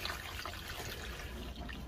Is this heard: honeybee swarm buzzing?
no